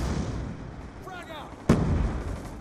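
A grenade goes off in Call of Duty Black Ops 2 on the Nuketown 2025 map during a Hardpoint match: one sharp, loud blast with a rumbling tail, following a brief tonal in-game sound effect.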